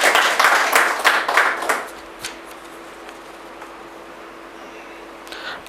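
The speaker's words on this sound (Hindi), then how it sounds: "इस बात के लिए भी तालियां बजाएंगे।" Audience clapping at an organisation's meeting, a burst of hand claps for about two seconds that quickly dies away into quiet room tone.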